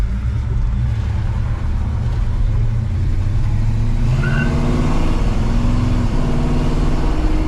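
A 1957 Chevrolet 3100 pickup with a mild cam runs on a test drive, its engine rumbling loud and close as it accelerates and shifts through gears without any talk.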